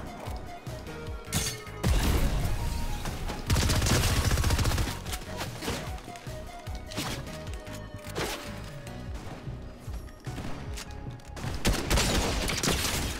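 Rapid gunfire bursts in the Fortnite video game, dense and continuous over a noisy mix of game effects, with loud bangs clustered throughout.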